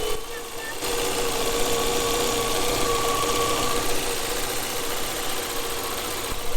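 A 1989 Volvo 480 engine idles steadily and smoothly at close range, a constant low rumble with a faint whine and no voices.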